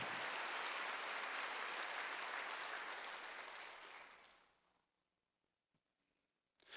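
A church congregation at a Wednesday worship service bursts into vigorous applause, a thick steady clapping that fades out after about four seconds into near silence.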